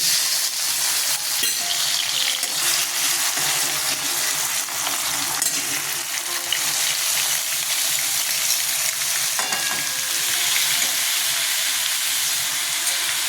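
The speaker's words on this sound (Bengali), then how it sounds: "তেল বসিয়ে দিছি গরম হয়ে গেছে কালো জিরে ফোড়ন দিয়ে দিলাম এবার সবজিগুলো ছেড়ে দিচ্ছি" Chopped vegetables fry in hot oil tempered with black cumin seeds, giving a strong, unbroken sizzle with occasional scrapes and knocks from stirring, loud and close throughout.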